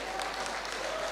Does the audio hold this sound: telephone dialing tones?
no